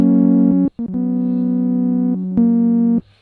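A buzzy synthesizer oscillator chord on an MPC held in several sustained blocks, cut off by short gaps and stabs, then a final held chord that stops abruptly.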